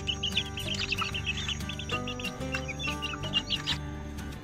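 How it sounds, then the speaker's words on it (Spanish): Hens and their chicks from the same hatch cluck and peep continuously in a breeding yard during cold season, with a steady layered chorus of soft clucks and high chick chirps at close range, no talking. "cada gallina tiene sus pollitos"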